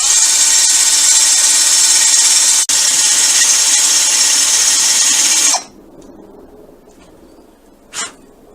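Power drill boring through the metal tour pack rack on a motorcycle, loud steady grinding whine for over five seconds with a brief dip, then stopping abruptly, followed by a quiet pause and a short faint clink.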